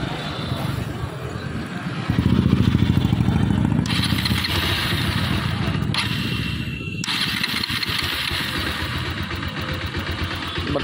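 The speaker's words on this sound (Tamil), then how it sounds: "இந்த மூணு சென்சாரையும் கழட்டி விட்ருக்கோம். இருந்துமே பார்த்திங்கன்னா வண்டி ஸ்டார்ட் ஆகும்." A motorcycle engine idling close by with its intake air temperature, throttle position and MAP sensors disconnected, a loud, steady running rumble with a rev swell early on, under a man's speech.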